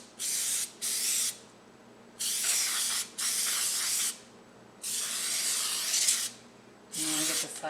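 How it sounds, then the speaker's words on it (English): Cooking spray is released into a springform pan while making a low-carb, sugar-free chocolate cheesecake. Six close, loud hissing bursts of about a second each are separated by short pauses. "I'm going to go ahead and give it one more spray."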